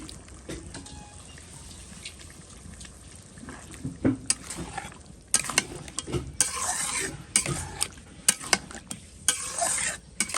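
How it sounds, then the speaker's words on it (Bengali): Meat is stir-fried in spiced oil in a pan, first a quiet low sizzle, then louder bursts of hissing and frequent scraping and knocking of the spoon as it is stirred hard, with no speech. "এখন হচ্ছে আমি মাংসগুলো দিয়ে দেবো মাংসটা ভালো করে কষাবো"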